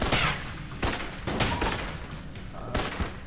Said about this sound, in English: let's use the Winchester rifle